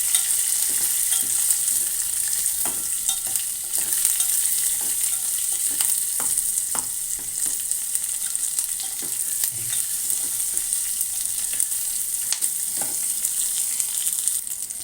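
Tempering sizzling in a pan with turmeric added for daddojanam, a steady frying hiss with scattered scraping stirs throughout, close and continuous with no talk.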